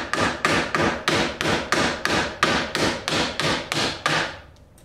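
A sledgehammer strikes a wooden pallet about a dozen times in a fast, even rhythm. Each loud, close blow has a sharp crack and a short ringing tail, and no voices are heard.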